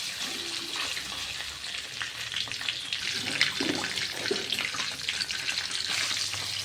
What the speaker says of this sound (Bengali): জিরে ফোড়ন দেওয়া হয়ে গেলে ওর মধ্যে আমি আদা কুচিটা ঢেলে দেব